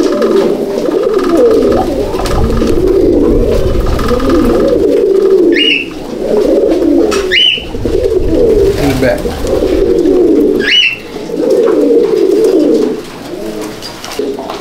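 Fancy pigeons, Jacobins among them, coo continuously in a loft at Howrah, a loud close chorus of low throaty rolling coos with a few brief high chirps over it, and no clear talking.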